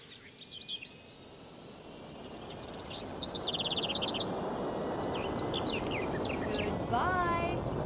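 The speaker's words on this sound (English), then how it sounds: "These birds are so loud." Loud birds chirping in the Mega Man Legends video game, a dense chorus of repeated high tweets and trills over a steady ambient hiss, growing fuller partway through.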